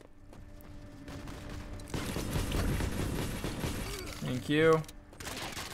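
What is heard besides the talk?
turret gunfire in the video game Modern Combat 5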